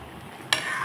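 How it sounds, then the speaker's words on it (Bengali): Egg curry broth in a pot comes to a boil, a quiet bed of low bubbling followed by a sudden burst of louder, brighter sizzling and bubbling that keeps going. "ঝোল টকবক করে ফুটছে"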